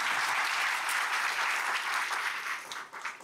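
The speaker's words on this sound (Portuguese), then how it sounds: "Uma salva de palmas para eles." Audience applause after a speaker's call for a round of clapping at a talk on success without stress; steady dense clapping from a crowd that fades and thins toward the end, with no voices over it.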